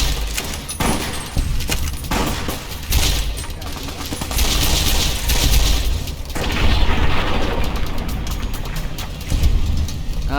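Dense gunfire and booms in the video game Fallout: New Vegas, with loud overlapping shots and blasts rolling on continuously, close and heavy throughout.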